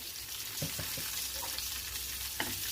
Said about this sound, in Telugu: అందులోని కరివేపాకు, కొంచెం ఆవాలు, 2 ఎండుమిరపకాయలు, ఈ పోపు వేసుకోవాలండి.